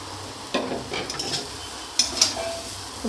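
Chow mein and lightly fried vegetables stirred in a pan, with a few sharp spatula scrapes and clatters over a soft background sizzle.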